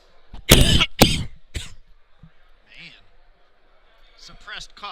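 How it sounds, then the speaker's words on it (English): Two sharp coughs close together, then a third, followed by a muffled cough-like sound and faint background voices at a powerlifting competition. "suppressed cough, it gets worse."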